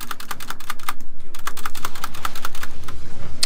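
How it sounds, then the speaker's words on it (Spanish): Fast, forceful keystrokes hammer a computer keyboard in a dense, steady run of sharp clacks, close and loud, with a brief pause near the start. "Te escucho mamporrear el teclado."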